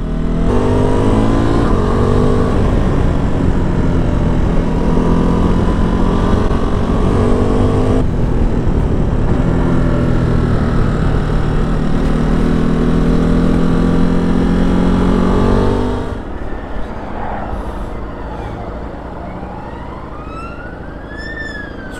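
A 2022 Ducati Multistrada V2S makes a loud, steady engine drone with rushing wind while riding. Near the end the roar drops away to a quieter idle with gliding, whining tones.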